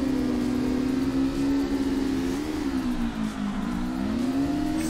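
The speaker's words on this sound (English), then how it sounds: "The left foot brake action going on right now in this Corolla." Toyota Corolla in the CarX Drift Racing video game, drifting with left-foot braking; a loud sustained engine drone wavers in pitch as revs rise and dip, with tire noise underneath.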